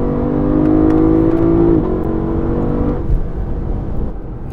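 The 5-litre V8 of a Lexus LC500 coupe in Sport Plus mode revs up loudly and close, its tone climbing and then dropping off into a lower rumble as the revs fall, with no voices.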